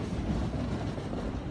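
A train sound effect plays as a steady, continuous low rumble with rolling rail noise, moderately loud and alone, lasting a moment without any talk over it.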